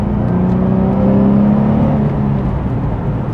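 A Nissan 350Z engine drones steadily from inside the car while driving, a loud sustained low hum with a slight rise in pitch midway and no speech.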